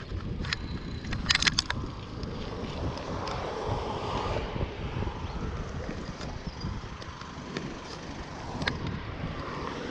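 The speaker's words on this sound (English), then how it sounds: "At least it's windy" Strong wind buffets the microphone during a motorbike ride on a road near the Myanmar border, giving a continuous loud rumbling roar with gusty swells and a few sharp crackles.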